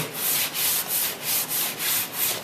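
A scrubber works the bottom of a 1956 Chris Craft Capri wooden boat in steady back-and-forth strokes, about seven rhythmic rasping passes, close and loud with no voices.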